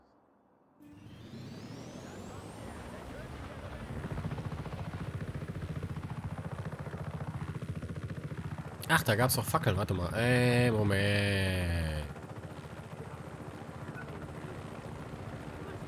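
Helicopter in the open-world action game Just Cause 3, a steady rotor and engine drone with pitch sweeps and a sudden loud burst of game effects midway, under someone talking intermittently.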